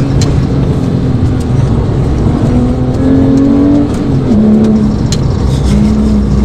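Porsche GT3 accelerating out of a hairpin into a small drift: a loud, close engine note climbs steadily through the revs, dips briefly, then pulls again, with no voices over it.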